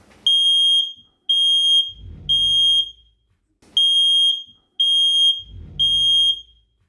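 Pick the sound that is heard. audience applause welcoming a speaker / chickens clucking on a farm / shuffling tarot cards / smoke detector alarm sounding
smoke detector alarm sounding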